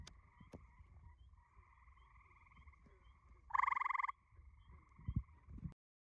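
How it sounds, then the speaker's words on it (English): Gray tree frog trills in a summertime game setting, several steady rhythmic calls layered in the background with one louder, closer burst partway through, plus a few soft knocks near the end. "Apparently this is a gray tree frog."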